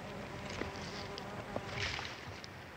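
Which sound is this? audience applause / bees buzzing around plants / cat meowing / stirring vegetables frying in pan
bees buzzing around plants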